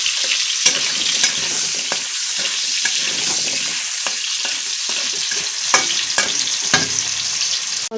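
Potatoes frying in hot oil in a pan for a shrimp and elephant-foot yam curry give a loud, steady sizzle, broken by sharp spatula scrapes and pops, without speech.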